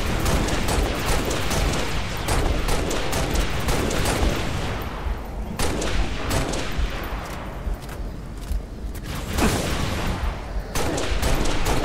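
Gunfire in the Halo: Reach video game: dense, continuous automatic fire with rapid overlapping shots and occasional booms, loud and unbroken throughout, with no speech.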